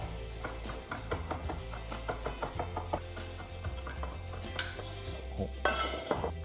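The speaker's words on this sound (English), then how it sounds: "I'm just gonna finely chop that mint" A knife finely chopping fresh mint leaves on a board in rapid, even taps, close and steady, with a few louder knocks near the end.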